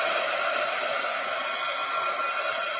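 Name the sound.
heat tool blowing hot air to dry craft paint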